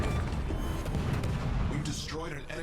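Rapid volleys of HE shells from an Aoba cruiser in World of Warships, a dense booming rumble of gunfire under someone talking, continuous across the moment.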